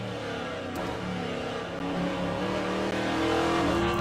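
VK Commodore Group C race car in rFactor2 on the Bathurst circuit, its engine droning loudly and steadily with rising revs under acceleration and a faint tyre squeal.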